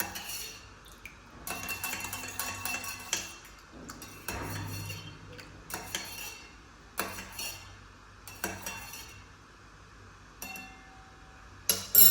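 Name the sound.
spoon stirring a mixture with lemon juice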